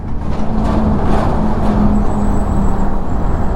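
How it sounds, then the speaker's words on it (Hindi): Steady, loud roar of jammed highway traffic on NH8 near Ankleshwar, heard from a Yamaha R15 V4 motorcycle on a long ride, with broadband road noise, engine hum and passing vehicles throughout, no talking. "भाई साहब क्या ट्रैफिक होता है यार"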